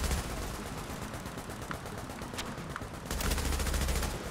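Sustained gunfire in The Division, a dense stream of rapid shots and bursts with occasional sharper cracks over constant battle din, loud and close throughout.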